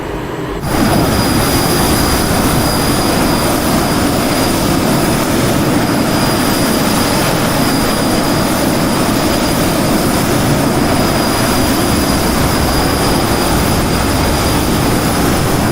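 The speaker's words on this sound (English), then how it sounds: "the engine sound currently is really, really loud in the outside model" Loud, steady jet engine roar of a Citation Mustang heard from outside in a flight simulator game, rising abruptly from near silence and holding a dense, continuous rumble with faint high tones for the rest of the stretch.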